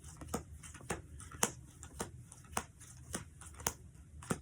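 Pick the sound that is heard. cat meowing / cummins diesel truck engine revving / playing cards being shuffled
playing cards being shuffled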